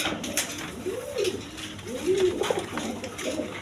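A breeding pair of pigeons coos nearby in soft, rolling, low phrases, two clear bouts a second apart over faint background noise.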